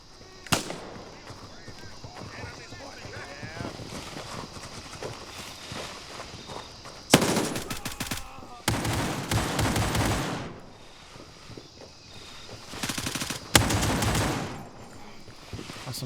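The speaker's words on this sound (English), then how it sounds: "That's some good shooting for us" Gunfire in Gray Zone Warfare comes in several loud bursts of automatic shots, separated by quieter stretches with footsteps and faint background shooting.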